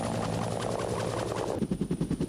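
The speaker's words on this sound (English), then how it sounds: "marine variant of the AH-1 Cobra and forms the backbone of marine attack helicopter units" A Marine AH-1 Cobra attack helicopter, its engine and rotor drone steady before the blades settle into a loud, rhythmic chopping thump in the last second.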